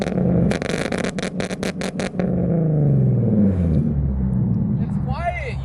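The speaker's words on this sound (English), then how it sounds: "So he's gonna rev it with the Tommy." A tuned Nissan 370Z with bolt-on modifications revs hard nearby, several quick throttle blips followed by a longer rising rev and settle, loud and dominant with voices talking over it.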